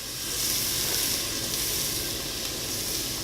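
Chopped onions sizzle in melted butter in a hot pan for risotto, a steady, fairly loud crackling hiss that stays even throughout with no voices over it.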